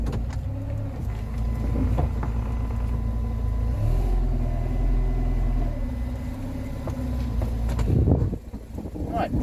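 A Rover 45 Impression S3 with a CVT gearbox, its transmission fluid a little below capacity, pulls away with a steady low engine rumble and a faint rising whine inside the cabin, and a voice speaks over it.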